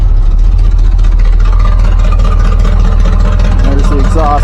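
A 1984 Ford F-350 truck engine fires up and settles into a loud, steady rumbling idle through exhaust headers lacking gaskets, with some rising tonal whine near the end and possible talk mixed in.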